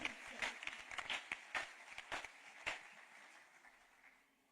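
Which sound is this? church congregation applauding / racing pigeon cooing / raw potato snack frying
church congregation applauding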